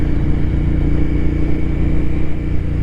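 A cafe racer motorcycle idles nearby, its engine and exhaust giving a steady, loud low-pitched rumble with a slightly clattery texture and no change in speed over a few seconds.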